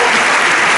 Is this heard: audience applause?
yes